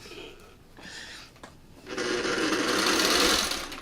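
Sewing machine stitching quilt block pieces, starting with a few soft short runs and then settling into a loud, steady continuous whir for the last two seconds, with no talk over it.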